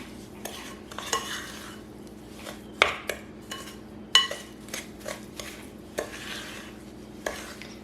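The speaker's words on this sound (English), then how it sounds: "they used to cream butter and sugar together this way, just with a spoon" Butter and sugar being creamed together with a spoon in a bowl, a close, repeated scraping and clinking of utensil against dish in an uneven rhythm, with no voices.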